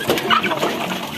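Bangkok chickens, a flock of hens outdoors on a farm at feeding time, clucking in a busy overlapping chatter throughout the short stretch, close and fairly loud with no one talking.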